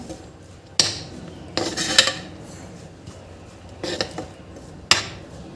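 Spoon scraping and clinking in a pan while beetroot paratha filling is mixed with coriander, a few sharp metallic knocks and short scrapes spaced out over a few seconds, close and clear.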